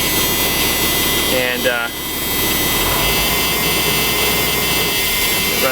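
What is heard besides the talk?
bus engine running after starting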